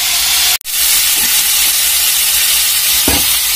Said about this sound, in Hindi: अभी मसाला डाल दिए हैं